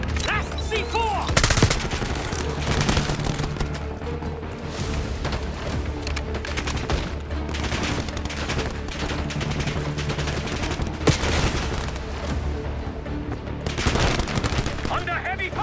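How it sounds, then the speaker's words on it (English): Heavy gunfire in the video game Black Ops 6, dense rapid bursts and booms sustained throughout, loud and continuous, with shouted voices mixed in. "Under heavy fire!"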